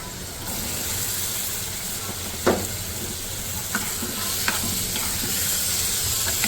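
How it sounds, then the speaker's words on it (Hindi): Black chickpeas frying with spices in oil in a pan, a continuous close sizzle and hiss with a few scattered scrapes of a stirring spoon, no voices. "अब हमने मसाले के साथ इन चनों को इतना भूनना है"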